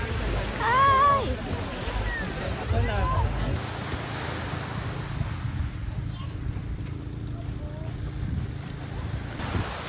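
Ocean waves wash onto the main beach at Puerto Galera as a steady low surf rumble with wind buffeting the microphone, while voices and faint bird-like calls sound near the start.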